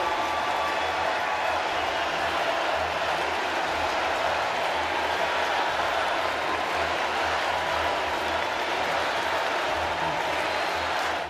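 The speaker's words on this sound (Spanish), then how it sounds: "los demócratas abrieron el lunes su convención en Chicago despidiendo a Joe Biden con muchos aplausos" A large crowd at the Democratic Party convention in Chicago applauding and cheering continuously, a dense, steady roar of clapping and voices heard from within the hall.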